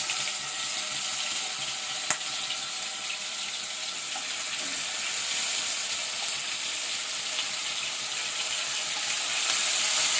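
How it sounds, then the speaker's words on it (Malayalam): Fish fries in hot coconut oil, giving a steady, fairly soft sizzling hiss that runs throughout with little change, apart from one small click early on. "ഇനി നമ്മൾ മീൻ പൊരിക്കാൻ വേണ്ടിയിട്ട് പോവാണ് കേട്ടോ"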